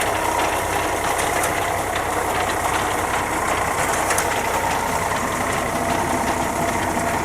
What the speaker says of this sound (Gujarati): ઘઉં વાઢવાની ખાતર છે, ટ્રેક્ટરમાં ફીટ કરેલી છે મિત્રો।